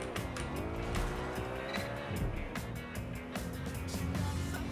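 A sports car is driven in Watch Dogs Legion, its loud engine drone rising and shifting in pitch with bursts of tire noise and skidding, steady and close throughout with no talking.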